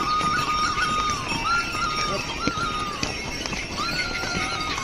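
Horses and mules carrying pilgrims along the mountain trail to the Yamunotri shrine in Uttarakhand, with repeated whinnies and neighs over a steady, busy background of hoofbeats and crowd noise.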